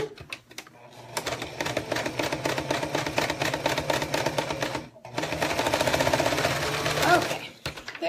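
A home sewing machine stitching a zipper runs in uneven, stuttering bursts, its rapid needle clatter loud and close, stopping abruptly around the middle before starting up again.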